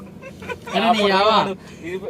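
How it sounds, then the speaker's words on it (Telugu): An incoming call sets off a mobile phone ringtone: one loud, wavering, warbling tone of about three-quarters of a second, framed by faint background voices. "అరే నువ్వు రింగ్ టోన్ మార్చురా ఫస్ట్"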